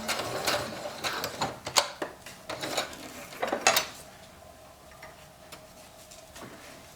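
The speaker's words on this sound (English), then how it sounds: "So we're just going to sew down to the bottom on this left-hand side" Sewing machine stitching a surfsuit zipper, quick ticking mechanical bursts in short runs for about four seconds, then quieter handling sounds, close, no talking.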